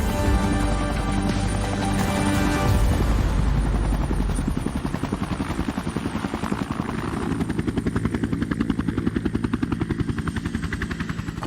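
A helicopter sets down on the footprint of old blue gas holders. Its loud, steady rotor thump and engine whine run throughout, close by and alone, with the blade beat growing more distinct as it lands.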